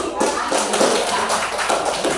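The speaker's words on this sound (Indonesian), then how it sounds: "tepuk tangan untuk Abi" Classmates clap for a student named Abi in a classroom, a brisk, loud patter of many hands close by, steady for a couple of seconds with slight voices mixed in.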